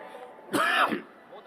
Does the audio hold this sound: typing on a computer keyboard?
no